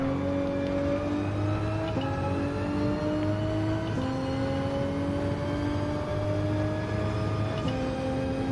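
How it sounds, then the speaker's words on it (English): Race car engine in Gran Turismo 7 bouncing off its rev limiter, a steady loud high-pitched drone that dips and climbs again every two seconds or so as it hits the limiter repeatedly. "I keep bouncing off that rev limiter."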